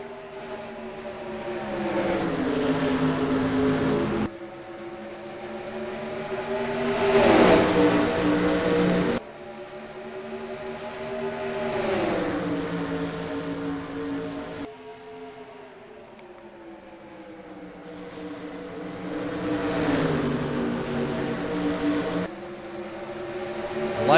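Stock-car engines from the NASCAR Racing 2003 video game at a race start at Trenton, a dense roaring drone of many cars with rising and falling pitch sweeps as the pack accelerates and shifts, continuous and fairly loud.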